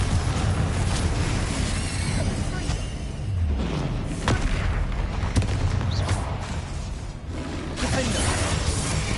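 Confringo blasting-spell explosions in Hogwarts Legacy: repeated booming, crackling blasts and thuds in a dense, loud stream of combat noise, with sharp impacts scattered through the clip.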